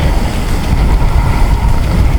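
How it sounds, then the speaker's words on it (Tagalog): Steady, roaring wind buffets the microphone, with a constant low rumble and no pauses, out at sea at night. "medyo malakas ang hangin"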